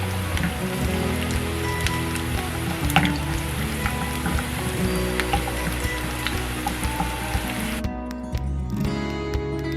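Onion and garlic sizzle in a pan with a steady, crackling fry like light rain, close and continuous, with small pops scattered through before the sound briefly softens near the end.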